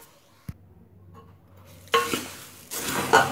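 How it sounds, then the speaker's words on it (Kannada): Puffed rice for masala mandaki being stirred with powdered sugar and a little salt in a bowl: a sharp knock near the start, a quiet pause, then two bursts of dry rustling and clinking spoon-on-pot mixing, no talk. "ಸಕ್ಕರೆ ಪುಡಿಯನ್ನು ಹಾಕಿ, ಸ್ವಲ್ಪ ಉಪ್ಪನ್ನು ಹಾಕಿ ಚೆನ್ನಾಗಿ ಬಾಡಿಸಿಕೊಳ್ಳಿ"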